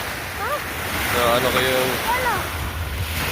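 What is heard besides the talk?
big ocean waves on the sea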